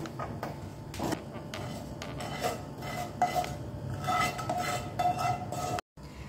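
A utensil scrapes and clinks steadily in a metal pan while stirring roasted semolina and khoa, a close, continuous rasping with sharper knocks, ending in a brief cut to silence.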